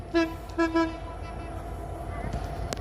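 A train horn blasts three short toots near the start, then a steady rumbling hum as the Panchagarh Express approaches a Bangladeshi station, entering the down loop line.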